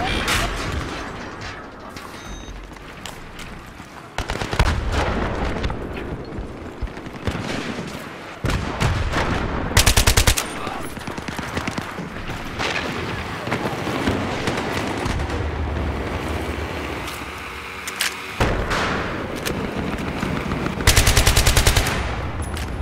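Battlefield 3 gunfire on PC during a Rush defense on the Tehran Highway map: bursts of automatic fire and sharp, heavy shots crack in loud clusters, with short lulls between volleys.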